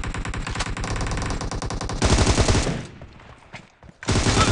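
Rapid automatic gunfire from the mobile shooter game PUBG Mobile in a team deathmatch, a sustained loud burst, a brief pause, then another burst, with no talking.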